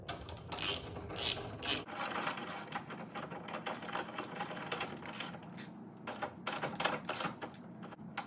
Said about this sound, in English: And then we take our 9/16 socket.